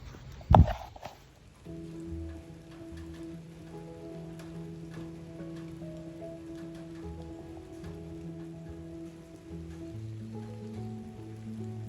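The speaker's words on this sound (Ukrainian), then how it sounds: "Хотів зняти контент, але дощ, а по прогнозу нема." Steady rain falls in a forest in autumn in northern Ukraine, a continuous close patter of drops on leaves and surfaces, with one loud knock near the start and a soft musical tone underneath.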